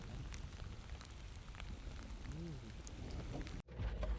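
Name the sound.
rain falling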